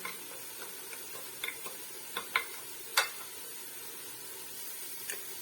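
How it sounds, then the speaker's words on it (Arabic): Food is stirred in a mix of olive oil and vegetable oil while preparing chicken with green beans, giving faint scraping and soft clicks of a utensil against the pan over a quiet sizzle. "غادي نخلط كلشي مزيان بهذا الشكل هذا"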